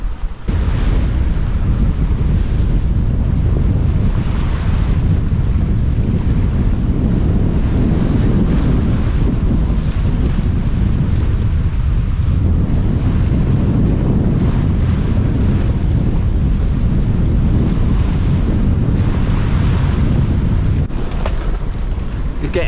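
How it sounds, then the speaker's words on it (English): Strong, gusty wind roars steadily across a sailboat's microphone while waves and rushing water churn beneath the hull as the boat sails toward a headland off New Zealand, loud and continuous, with no talk. "It's getting a wee bit gusty now as we're approaching this point."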